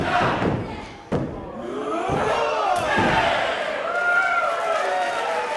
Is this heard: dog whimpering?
no